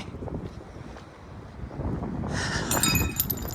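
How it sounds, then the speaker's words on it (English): Shards of broken glass are kicked aside on a sidewalk along a windy city boulevard, giving a brief bright tinkling clatter over steady wind rumble and outdoor noise. "Broken glass."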